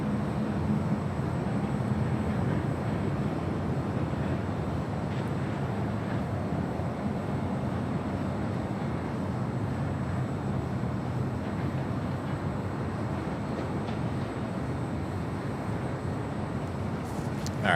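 Emirates airliner approaching Los Angeles International Airport from the coast, a steady broadband jet roar that holds at even loudness throughout, with no distinct peaks and no talk.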